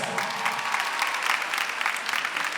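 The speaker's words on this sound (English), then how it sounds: "give them a nice big round of applause." A crowd applauding steadily, dense clapping with no pauses, moderately loud throughout.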